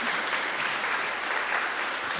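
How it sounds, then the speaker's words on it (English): Dense, continuous applause from a convention audience for the Terrifier panel guests at a horror con, steady and loud throughout with no pauses. "how about one more round of applause for David Howard Thornton and Damien"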